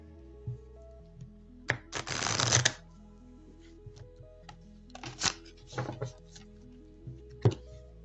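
Oracle cards are shuffled and laid out, giving a clear riffling burst followed by scattered soft taps and flicks of cards on a surface, close and fairly quiet.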